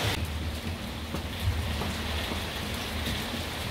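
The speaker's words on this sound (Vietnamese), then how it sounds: "Mưa quá mưa." Heavy rain pours steadily on a rainy day in the Vietnamese countryside, a dense, even hiss with scattered drop patter and no voices, continuous throughout.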